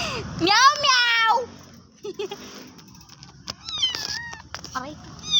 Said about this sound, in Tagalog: this is my cat, bro